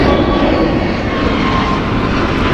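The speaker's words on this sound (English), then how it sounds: "Departing here is American Airlines Flight 990 going to Atlanta, Georgia. It's an Airbus A321neo." Loud, steady engine roar from an American Airlines Airbus A321neo departing LAX for Atlanta, heard close and continuous in a short burst without any talking.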